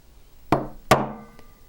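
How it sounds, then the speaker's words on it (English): Two sharp hammer taps strike a metal punch on a jewelry workpiece during soldering prep, each with a short ringing decay, followed by a faint third tick, close and alone without talk. "just give it a little tap with my hammer and move it around"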